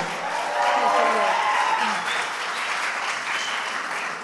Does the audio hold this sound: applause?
yes